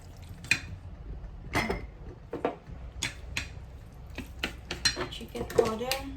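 Spoon clinks and scrapes against a bowl as ingredients for Chinese steamed pork with preserved mustard are mixed, with salt and chicken powder added, coming as irregular close, fairly quiet taps and stirs over a low room hum.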